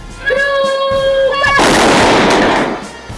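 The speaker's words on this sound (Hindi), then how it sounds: "हर्ष फायर की आवाज के साथ हर आंख में एक ही चमक थी" Celebratory gunfire rings out at an Independence Day flag hoisting in Sagar. After tonal horn-like notes, a loud, sustained burst of overlapping shots rolls for over a second before fading.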